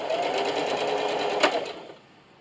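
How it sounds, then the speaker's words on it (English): A sewing machine runs a straight stitch at length 2 and zero width on fabric for a trifold notebook and pencil case, a steady close whir that spikes briefly then winds down and stops. "And just keep sewing."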